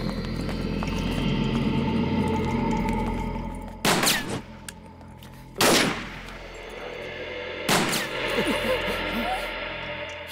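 Gunfire in a dubbed South Indian action film scene, with three sharp loud bursts spaced a couple of seconds apart over a busy background of hoofbeats and voices.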